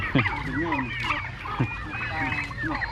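Chickens clucking amid a busy outdoor market in Xaiphouthong, Savannakhet, Laos, with birdy calls and honks mixed in and some voices in the background.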